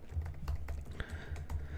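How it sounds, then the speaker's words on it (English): Code being typed on a computer keyboard during an iOS Swift app-building lesson: a steady run of close, crisp key clicks with occasional louder strokes, no talking. "I'm going to start typing this in"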